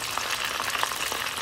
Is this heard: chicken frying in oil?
yes